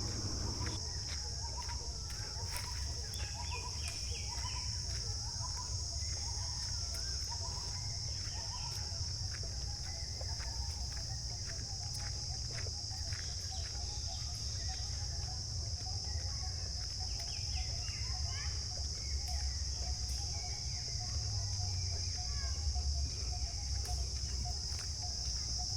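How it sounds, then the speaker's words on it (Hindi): Insects chirr and buzz continuously in a forest near Arambagh, a steady high drone with scattered bird calls and chirps over it, fairly quiet and without talk. "यहाँ आप सुन सकते हैं कैसे कैसे कीड़े मकोड़ों की आवाज़ या कुछ चिड़ियों की आवाज़ें आ रही हैं"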